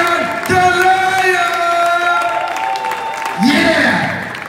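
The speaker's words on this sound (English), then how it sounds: "Start clapping right now." An audience at a 2022 BMMCA competition event claps and cheers, a dense wash of applause with whoops rising and falling behind a loud voice speaking over a sustained musical backing.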